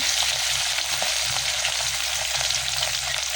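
Fish added to hot oil in a pot for curry, giving a loud, steady, close sizzle that continues without a break and with no voices.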